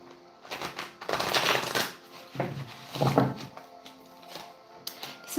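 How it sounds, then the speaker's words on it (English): Tarot cards being shuffled by hand, with soft riffling and sliding bursts that come and go in uneven clusters, fairly close and quiet, with no talking. "as I was shuffling"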